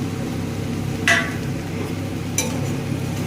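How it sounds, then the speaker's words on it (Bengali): Fried okra being stirred together with spices and other ingredients in a pan: two brief spatula scrapes about a second apart rise over a steady low background hum, with no voices. "এবার সমস্ত উপকরণকে একসাথে মিশিয়ে নেব, ভালো করে মিশিয়ে নেব।"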